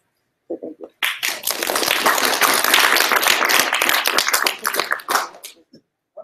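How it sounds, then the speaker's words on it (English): Audience at a machine learning panel clapping, a few brief claps and a voice first, then a dense burst of applause lasting about four seconds before it quickly dies away. "I think Joseph deserves a special round of applause"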